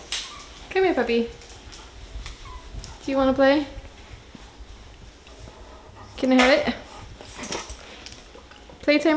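A puppy gives high, rising whimpers and yips during play in a home kitchen, three distinct bursts spaced several seconds apart, with a person talking to it in between.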